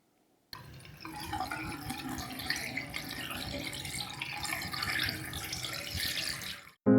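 Dirty wastewater emptied from a Bissell Little Green Machine's tank into a sink, a steady splashing, gurgling pour lasting several seconds, close and fairly loud, with no talking.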